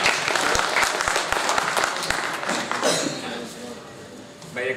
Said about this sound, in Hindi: एक बार रमजान भाई के लिए जोरदार तालियां बजा दीजिए।